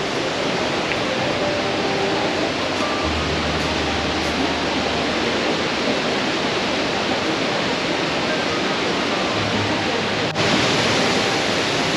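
Waterfall at Krka National Park in Croatia produces a steady broadband roar of rushing, crashing water, loud and unbroken throughout, with faint low hums of other sounds occasionally beneath it.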